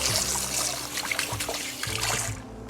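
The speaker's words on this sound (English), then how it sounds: "I'm just gonna rinse my hands off." Tap water runs and trickles as hands are rinsed in a kitchen during scalloped potato prep, a close, continuous splashing stream with small shifts as the hands move under the flow.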